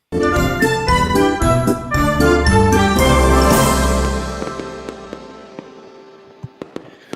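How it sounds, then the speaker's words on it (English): Fireworks over Cinderella's Castle at Disney World near Orlando burst in a rapid loud barrage with ringing, crackling tones, then thin out into scattered distant pops and fading crackle. "Those fireworks are popping"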